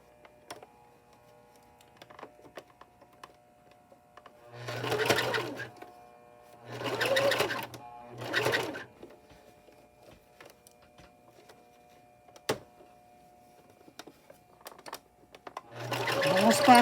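A sewing machine stitches the seam of a small tote bag for an 18-inch doll, running in three short bursts close to the mic and starting again at the end, with brief pauses and light handling between runs.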